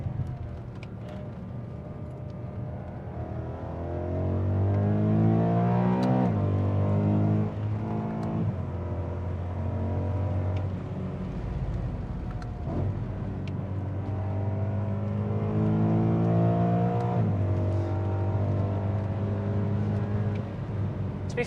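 A BMW E92 M3 driven hard around the Nürburgring, its engine rising through repeated revving pulls with drops at gear changes, loud and close from inside the car, no talk.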